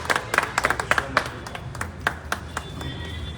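Audience at an AWPL event in Purvanchal clapping a man named Jaydev, with scattered, uneven claps and a few sharper taps close by.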